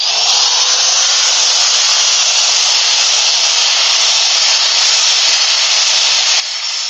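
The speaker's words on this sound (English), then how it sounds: "what's the speed of that angle grinder" A fully variable-speed angle grinder runs steadily near a big lathe, a sustained broadband hissing whine with no breaks, its tone changing only slightly just before the end.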